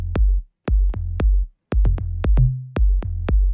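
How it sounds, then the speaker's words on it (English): Electronic beat of short, punchy pitched-up tom drum samples layered with a deep kick drum, about a dozen hits in a syncopated groove with one held low tone, dry and loud with no voices. "this is basically just a simple tom sound, just pitched up a bit"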